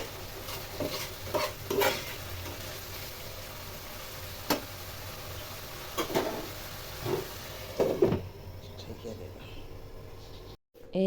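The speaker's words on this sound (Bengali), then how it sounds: "টমেটো ভাজি চুলায় হইতেছে।" Tomatoes fry in a pan on a home stove with a low, steady sizzle, broken by occasional spoon clinks and stirring taps, and a voice talks over it now and then.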